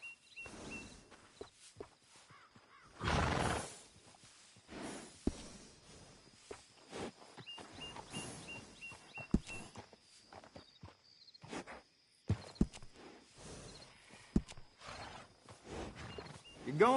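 A horse in Red Dead Redemption 2 walks along with irregular hoof thuds and scuffs, plus one louder snorting burst, over quiet ambience.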